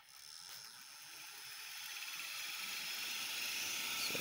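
An electric motor spins a homemade coreless generator, giving a steady, close hiss and high whine that slowly grows louder over a few seconds, with no talking.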